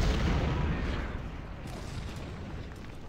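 Artillery cannon fire from the Civil War strategy game Ultimate General: Civil War at the Battle of Fredericksburg, a dense, rumbling barrage of booms that is loudest at the start and then settles into a continuous low roar.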